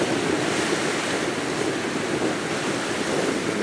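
Ocean surf on an Icelandic shore near the Reykjanes Peninsula gives a steady, broad wash of breaking water with wind noise, continuous and fairly close, with no voices.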